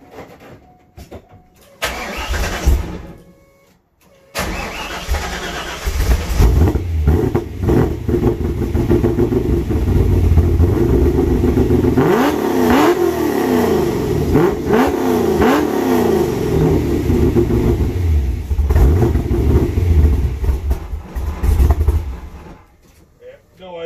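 A Corvette C5 with an LS1 engine, BTR stage 3 cam and 243 heads fires up for the first time and revs loudly and roughly. It cuts out briefly, restarts, then roars close to the mic before dropping off at the end.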